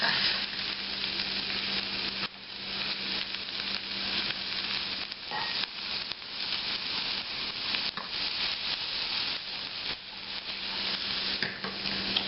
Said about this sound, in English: let's saute up these onions and green peppers. Just a little bit of cooking oil in a hot saute pan